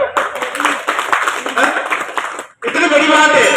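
A crowd applauds at a gathering at an old Thakur Ji temple in Rajnagar, Rajsamand, Rajasthan, with dense, steady clapping that breaks off briefly and then resumes.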